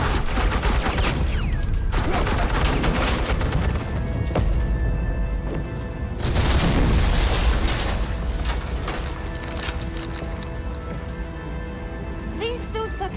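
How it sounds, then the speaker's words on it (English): Suppressing fire from a video game plays out as a long stretch of dense, rattling automatic gunfire, with loud bursts and crackling impacts over a noisy background. "suppressing fire"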